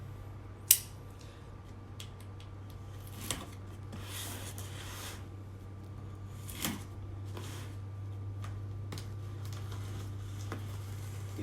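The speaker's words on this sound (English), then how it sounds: "Be careful not to cut the shoebox itself." Cutting open a cardboard shipping box holding a shoebox, with soft scattered snips, scrapes and rustles of cardboard, one sharp tap near the start, over a steady low hum.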